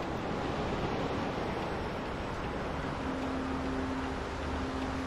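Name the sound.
sea waves crashing on shore at Gangasagar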